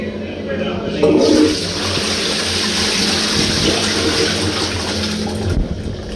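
A pub toilet flushed with a Doom Bar beer pump handle, a loud rushing gush of water that surges early then settles into steady churning refill before trailing off.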